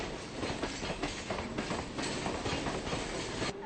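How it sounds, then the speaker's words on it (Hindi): A Mumbai local train running past a platform, a dense continuous roar of wheels and carriages with rhythmic clickety-clack beats, loud and close throughout with no speech. "लोकल ट्रेनों की आवाजाही एक मधुर संगीत जैसा प्रतीत होता है"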